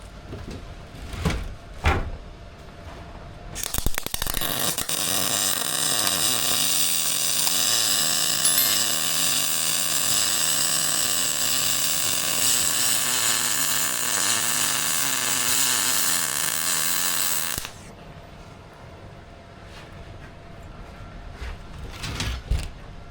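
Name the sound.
pull welding on a sunken boat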